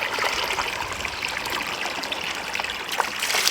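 Water spills steadily over the flat rim of a bucket in a continuous trickling, splashing stream, close and fairly loud, during a timed flow test for a bushcraft waterwheel hot tub.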